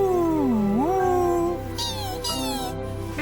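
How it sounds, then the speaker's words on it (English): Otters in Queulat National Park, Patagonia, give a run of loud, close squealing and whistling calls: rising and falling cries followed by shorter chirps, with no talk. "What was that? Oh my god. What is that? That is otters."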